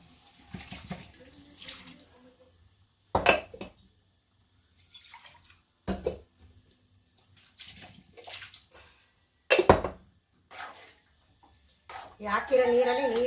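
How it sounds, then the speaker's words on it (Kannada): Water splashes and pours into a cooking pot for biryani in several separate bursts, with sharp metallic clinks between them and a voice talking intermittently nearby. "ನೀರು ಹಾಕ್ಕೊಂಡ್ಬಿಡ್ತೀನಿ"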